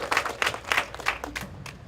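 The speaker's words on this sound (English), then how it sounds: "Applause for them." Scattered applause from a small outdoor crowd at a ribbon cutting ceremony for an international peace pole monument, a few seconds of uneven hand claps with no talking.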